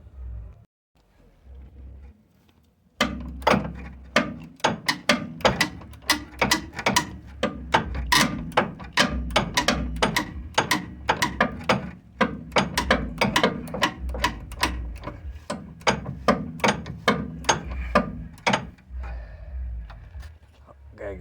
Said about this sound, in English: let's break the two twin I-beam center bolts out, get them loose